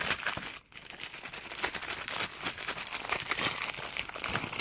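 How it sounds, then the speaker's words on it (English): Crinkly plastic bag being pulled off a wireless mini keyboard with built-in backlight, a steady stream of close, loud crackling and rustling with brief pauses and no talking. "So now we just have to unbag the keyboard itself."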